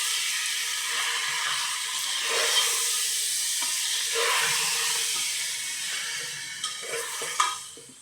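Goat head curry frying slowly in a pan, giving a steady close sizzle and hiss throughout with faint stirring scrapes, heard alone without talk.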